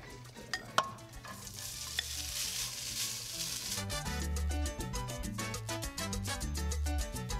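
Food sizzles and is stirred in a pan with a tablespoon of olive oil and tomato sauce for a vegan Spanish dish. A steady frying hiss is heard at first, then background music rises and dominates.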